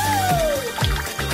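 Juice runs from a special tap into a glass, a short liquid pour with a falling tone and a few drips, up close.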